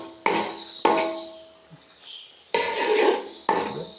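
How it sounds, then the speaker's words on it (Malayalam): Kerala-style noodles stirred in a metal pan, with a few sharp clanks of the utensil against the pan at irregular intervals and quiet scraping between them, close by and with no talking. "കരിയാതെ നമുക്ക് എപ്പോഴും ഇങ്ങനെ ഇളക്കിക്കൊണ്ടിരിക്കണം"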